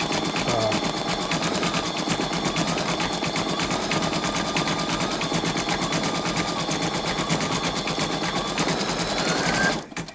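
A Brother Innov-is 2800D embroidery machine stitching a large design runs with a fast, steady mechanical chatter, loud and close, before stopping abruptly near the end.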